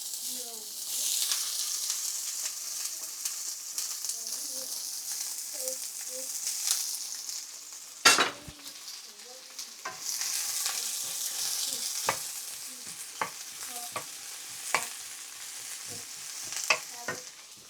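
Onions for a Kerala-style prawn biryani gravy sauté in oil and ghee, giving a steady soft sizzle broken by repeated spoon scrapes and clicks, with one sharp knock partway through.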